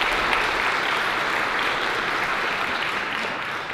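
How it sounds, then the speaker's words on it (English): Audience applause for the stage crew at a high school spring concert, a thick, continuous wash of clapping from a large crowd in an auditorium, steady and loud before easing slightly at the end. "So let's give them a round of applause."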